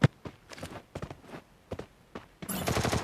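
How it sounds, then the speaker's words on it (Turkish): Footsteps in a battle royale video game: a series of quick, faint thuds in an irregular rhythm, followed near the end by a denser burst of louder noise. "Ayak sesi duydum."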